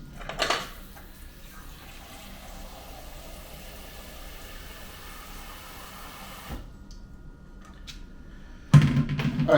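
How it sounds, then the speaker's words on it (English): Water poured from a tap into a pot of clams for Long Island clam chowder, a steady splashing stream for several seconds that stops abruptly, followed by clattering of the pot. "Now we're going to put about 2 cups of water."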